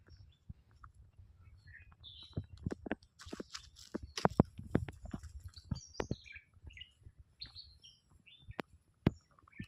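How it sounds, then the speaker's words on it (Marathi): Birds chirp and tweet in short, scattered calls against a quiet outdoor background, with a few soft thumps and rustles mixed in. "पक्ष्यांचं फक्त किलबिलाट असा, बाकी इतर कसलाच आवाज नाही असा."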